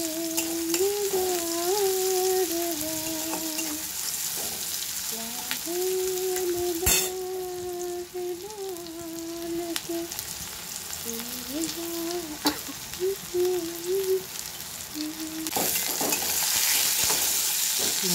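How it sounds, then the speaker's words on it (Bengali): Onions fry in a pan for chicken dopiaza, a steady close sizzle with occasional stirring clatters, while a voice hums or sings a tune over the frying throughout. "পেঁয়াজটা দিয়ে দিলাম, পেঁয়াজটা ভালো করে ব্রাউন করে ভেজে নেব।"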